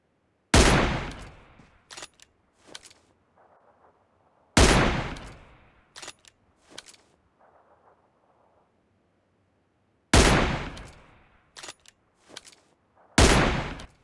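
Sniper rifles such as the AWM and M24 fire in a PUBG-style mobile shooter: four loud, sharp single shots seconds apart, each trailing an echo, with fainter distant pops and clicks in between.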